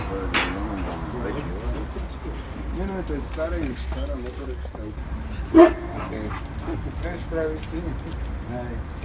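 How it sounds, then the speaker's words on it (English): A dog at an open-air garage gig makes a few short yips and whimpers, close by, mixed in with people talking. "So we've got a dog"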